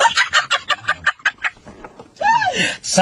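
An online video game plays a loud bird call, a series of rapid clucking, gobbling notes followed by a long crowing cry, close and clear.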